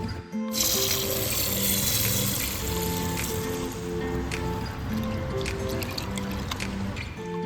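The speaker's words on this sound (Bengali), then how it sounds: "ডাল ধুয়ে নিচ্ছি।" Masoor lentils being rinsed in water, a steady close trickle and splash of running tap water with faint drips, continuous throughout, no talking.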